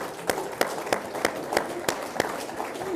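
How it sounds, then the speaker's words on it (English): An audience at a business school talk claps in a steady run of sharp, evenly spaced hand claps, close and moderately loud, with a faint murmur of voices beneath. "while you're clapping"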